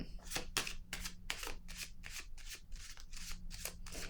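Tarot cards being shuffled by hand, a steady run of about a dozen crisp riffling bursts in quick, even rhythm, close and clear over a faint low hum.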